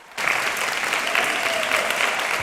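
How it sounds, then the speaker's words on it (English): A standing ovation from a sold-out crowd of 2,500 in Youngstown's Stambaugh Auditorium, greeting feminist leader Gloria Steinem: dense, loud, steady clapping that bursts in after a brief quiet moment and holds without a break. "A standing ovation greeted Gloria Steinem tonight at Stambaugh Auditorium"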